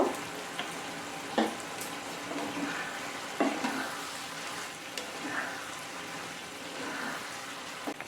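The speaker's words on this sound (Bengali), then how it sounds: "গোলমরিচ গুঁড়ো দিয়ে দেবো আর দিয়ে দেবো অরিগানো দিয়ে ভালো করে নেড়ে নেব" Boiled tomatoes with ground black pepper, oregano and green chili stirred in a pan for pasta, a soft sizzle under repeated spoon scrapes and taps, fairly close and gentle.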